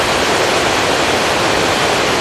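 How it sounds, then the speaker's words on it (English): The Jew Waterfall in Taraba, roughly 200 meters high, roars as a steady, dense wash of falling water, loud and unbroken with no voices. "This sound is as a result of a waterfall called the Jew Waterfall."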